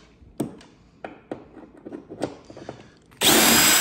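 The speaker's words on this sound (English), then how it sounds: "I'm gonna gently use power tools to take this thing off" Several scattered clicks and handling knocks, then a loud, steady whir as a power tool starts unscrewing screws from an old Magnavox unit, close up, with no talking.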